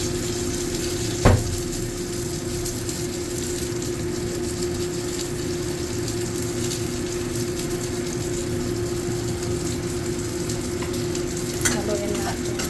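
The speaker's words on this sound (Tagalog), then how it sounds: "So, ilagay na natin yung tofu." Tofu fries in a pan of salted egg yolk sauce with a steady, even sizzle, broken by a couple of sharp utensil clacks as it is stirred.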